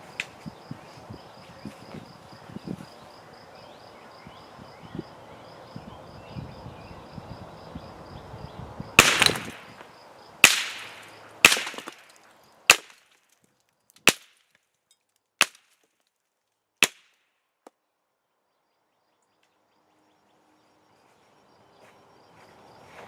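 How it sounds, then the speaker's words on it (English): Gunshots are fired at thin plaster mold targets outdoors, about seven sharp, loud cracks spaced roughly a second or so apart. Quiet rustling comes before the shots, and near silence follows them. "We're going to see what happens when you shoot plaster."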